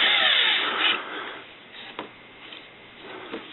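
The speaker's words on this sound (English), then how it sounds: "now we're just going to lightly drill through" A drill bit bores lightly through abalone shell inlay, giving a whirring grind at the start that fades into quieter scraping, with a couple of small sharp clicks as the bit catches.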